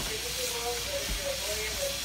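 Pork chops sizzle in a pan with a steady, faint hiss, and a faint tonal hum runs beneath it.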